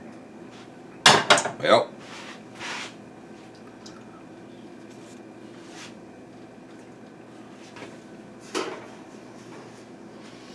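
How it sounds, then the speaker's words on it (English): A blackberry cobbler dish is set into an oven with a sharp cluster of clattering metal and dish knocks near the start, followed by softer bumps and a door-like thud later, with a voice speaking briefly. "Then I'm going to pop this in the oven."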